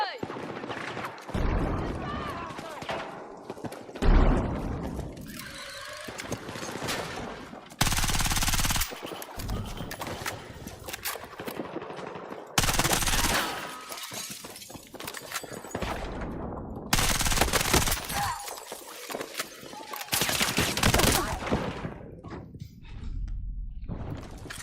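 Battlefield video game combat with loud bursts of automatic machine-gun fire and single gunshots, coming in several dense volleys separated by short lulls, with a voice speaking over parts of the firefight.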